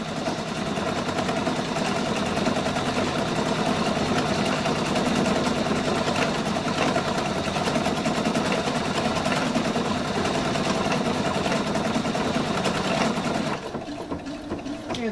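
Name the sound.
Pfaff Quilt Expression 720 sewing machine stitching pattern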